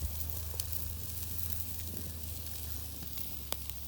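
An 85-day dry-aged tomahawk steak sizzles steadily in a hot pan, a constant close frying hiss with a low hum beneath and a few sharp pops, no voices.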